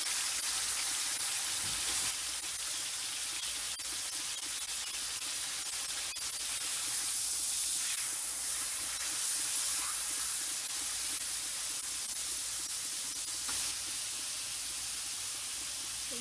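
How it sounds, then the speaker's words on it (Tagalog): A marinated pork chop for Pinoy-style pork steak frying in a pan, producing a constant bright, hissing sizzle at close range with no talking over it. "Tapos pipituin lang natin yung ating pork chop."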